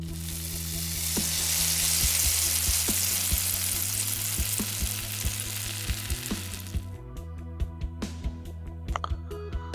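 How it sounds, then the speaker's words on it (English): Onion sautéing in a pan for palak chicken curry sizzles loudly and steadily, with a few light stirring clicks, then the frying drops off and quieter scrapes and taps follow near the end. "Onion to be sauteed till light brown before golden, not fully golden color."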